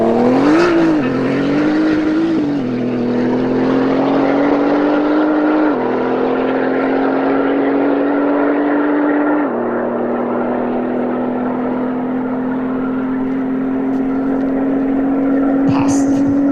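A Nissan GT-R R35 engine holds a loud, sustained drone close by. Its pitch wavers early, then steps down in distinct stages as the revs settle into a steady, strong hum.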